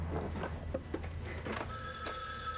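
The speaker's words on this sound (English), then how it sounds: "Is that an old-fashioned telephone?" An old-fashioned telephone bell rings in trilling bursts inside a TV drama scene, with background scene sounds underneath. The ringing gets louder and clearer near the end.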